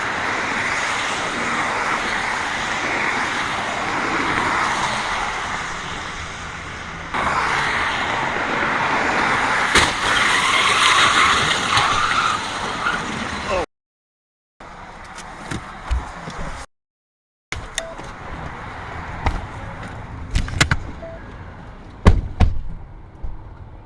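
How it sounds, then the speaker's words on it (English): A car on a freeway slams at full speed into a stalled SUV. Loud road and engine rumble builds to sharp impact bangs, then the sound cuts out and returns as scattered crunching knocks and thuds. "another vehicle came from behind and struck the stalled SUV at full speed"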